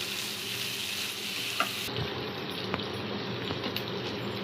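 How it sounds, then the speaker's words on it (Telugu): Chicken tomato fry sizzles steadily in a pan, a dense continuous crackle with a few faint utensil taps, close and alone without talk. "ఇవన్నీ మంచిగా వేగిన తర్వాత పచ్చివాసన పోయిందాక వేగాలి"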